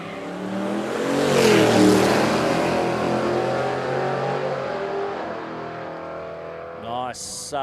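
Drag racing cars, including an HT Kingswood, launching on a no-prep drag strip: loud engine roar swelling and fading into the distance, with a commentator talking over it.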